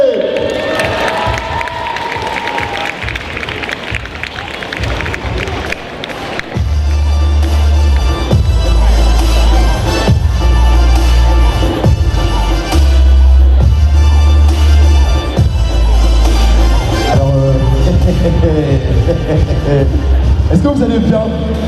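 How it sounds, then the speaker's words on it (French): A large audience at a cosplay contest at the Montpellier exhibition park (MAGS 2018) claps and cheers for the jury, a dense, loud, sustained roar of applause and crowd noise over booming music. "je vous prie de faire un tonnerre d'applaudissements pour le jury qui va nous faire une prestation"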